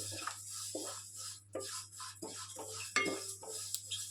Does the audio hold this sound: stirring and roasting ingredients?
yes